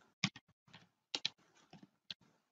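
Typing on a computer keyboard: sparse clusters of sharp, close key clicks in irregular bursts, separated by short pauses.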